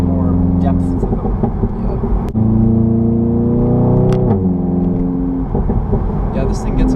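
APR Stage 2 tuned VW Mk7 GTI accelerating hard, engine drone rising in pitch with a loud, steady rumble heard from inside the car, broken by a sharp crack near the middle and brief pops as the revs drop.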